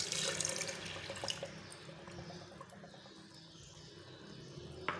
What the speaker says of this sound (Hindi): अब मैं लूँगी 1 प्याली दूध की, वो भी ऐड करूँगी ग्राइंडर में।